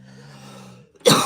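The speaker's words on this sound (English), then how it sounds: "I apologize with all this coughing" A single loud, harsh cough from a person bursts out close to the microphone after a brief low voiced hum.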